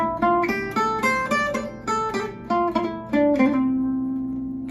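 A sweet, plucked gypsy jazz guitar melody, moving through single notes and C-triad chord tones at a steady pace, ending on a sustained ringing note.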